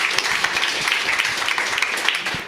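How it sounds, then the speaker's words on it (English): An audience at a forum on development, rule of law and human rights applauds the speakers, a dense, steady wash of clapping from a crowd that carries on throughout without a break. "one more round of applause for our speakers"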